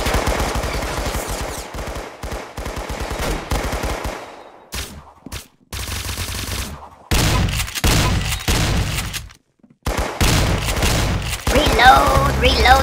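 Shotgun fire in the Roblox shooter Arsenal: loud, punchy blasts in rapid bursts, broken by short silent gaps, with a final flurry of shots at the end.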